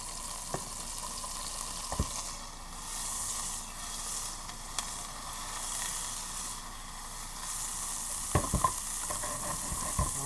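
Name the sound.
softened butter sizzling in a hot pan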